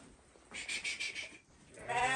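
Lambs bleating in a village farm barn, a wavering cry followed by another rising call, fairly close and alone with no talk.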